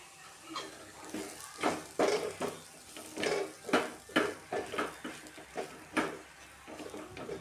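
Spicy chili powder and Kashmiri chili powder are stirred into onions in a pan for chicken curry. A spoon scrapes and clatters in repeated strokes over a soft sizzle.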